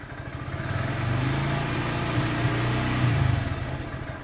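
A Honda Grom motorcycle with its stock intake revs up to about 4000 rpm, a close, loud, buzzing single-cylinder engine note that rises, holds steady and then eases off, with no talking.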